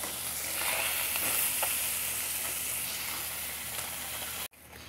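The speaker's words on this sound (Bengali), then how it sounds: "মাছটাকে ভেজে নিয়ে ফিরে আসছি" Pieces of fish fry lightly in hot oil in a cooking pot, giving a loud, steady sizzle with small pops. It cuts off abruptly near the end.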